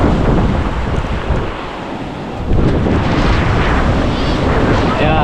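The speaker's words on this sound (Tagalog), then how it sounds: "Kaya lumakas na ang habagat." Strong monsoon wind drives waves onto the shore at a river mouth, making a loud, continuous roar of surf and wind buffeting. The noise eases briefly and then surges again. Faint speech may be mixed in.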